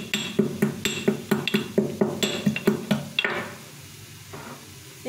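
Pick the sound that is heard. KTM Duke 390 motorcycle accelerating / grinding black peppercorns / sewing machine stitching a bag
grinding black peppercorns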